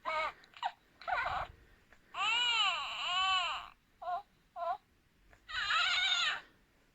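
A Mandalorian Child toy's high, electronic baby voice babbles and coos in short bursts, some long and warbling, separated by brief pauses.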